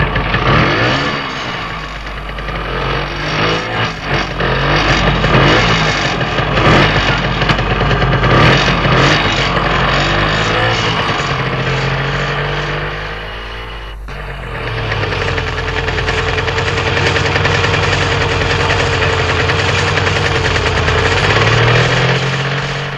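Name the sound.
scooter engine running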